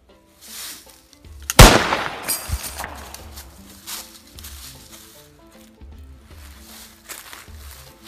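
A hunting rifle fires a single kill shot outdoors, one sharp loud crack followed by a rolling echo that fades over a few seconds, with faint rustling around it.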